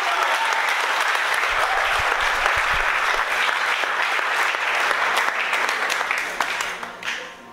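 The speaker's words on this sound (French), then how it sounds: "on l'acclame" Loud, sustained applause from a church congregation fills the whole stretch, dense clapping that thins slightly toward the end.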